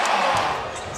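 Basketball dunk and bounce during an NBA game between the Golden State Warriors and Portland Trail Blazers, a brief thump over a loud arena crowd roar with a commentator talking.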